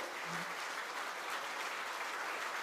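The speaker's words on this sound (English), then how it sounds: "to please stand up so that we can clap for them" Audience at a stock-market listing ceremony for Vinsys IT Services applauding award winners, a steady dense wash of clapping from many hands, even and continuous throughout.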